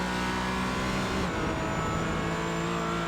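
A SimRC.de Carbon Porsche 718 Cayman race car in iRacing at the Nürburgring endurance race, its engine droning loudly and steadily at high revs, with a pitch shift as it changes gear and other car sounds under it.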